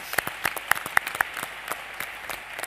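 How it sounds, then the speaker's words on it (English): Sparse, scattered hand claps at a top employers awards event, a few sharp distinct claps over a thin background of softer clapping, without building into full applause. "I think it's important that we give them all another round of applause, please"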